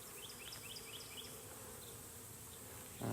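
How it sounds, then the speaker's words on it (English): Honey bees from a swarm being hived, buzzing in a steady, close drone with a few higher passing whines as individual bees fly near. "These could all be nurse bees"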